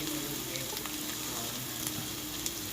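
Onions and green chillies frying in a pan give a steady, even sizzle and crackle with faint stirring ticks throughout, close and continuous, no talking.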